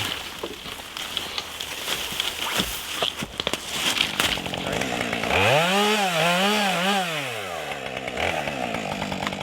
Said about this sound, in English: He's trying the electric chainsaw.